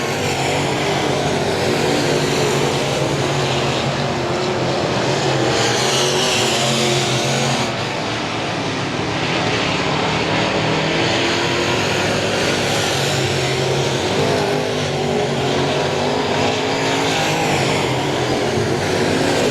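Race cars roar around the I-37 Speedway oval in a continuous loud engine drone that rises and falls as the pack passes, with no voices over it.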